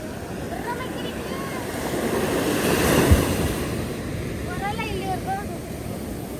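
Ocean waves wash onto a Karnataka beach in a steady broadband roar that swells toward the middle, with wind buffeting the microphone and faint voices in the background.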